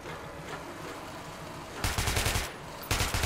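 Two loud bursts of rapid automatic gunfire from the video game Metro 2033 Redux, close and punchy, separated by a short pause over low game ambience.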